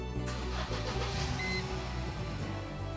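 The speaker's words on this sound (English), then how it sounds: "Engine runs sweet." A Mercedes SLK engine turns over and settles into a steady mid-pitched idle hum, close and moderately loud, with no talking.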